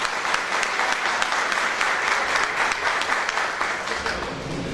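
Audience applause welcoming Dr. Diomedes Vargas, the morning's lecturer on Christian humanism, as steady dense clapping from a sizable crowd that holds at an even level for about five seconds without a break.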